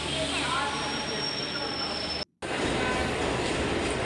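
A passenger train, number 12077, stands at a crowded Chennai Central station, giving a loud continuous rumble with a thin high squeal and busy platform noise, broken by a brief cut.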